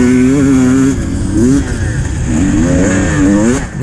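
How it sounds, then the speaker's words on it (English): A big 450cc motocross motorcycle roars past during the 2019 Skegness beach race, its engine loud and close, revving and rising and falling in pitch for the whole few seconds. "I hear a big 450 down the inside"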